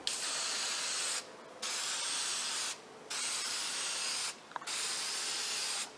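Graffiti spray-painted onto a clean vinyl awning in three long, loud hissing bursts from a nearby aerosol can, split by short pauses, with a small click in the last gap.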